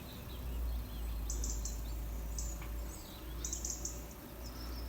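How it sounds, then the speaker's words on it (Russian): Birds chirping in a quiet green courtyard in Yalta, Crimea, short high tweets coming in small clusters, faint and somewhat distant over steady low background hum. "сейчас отчетливо слышно пение птиц"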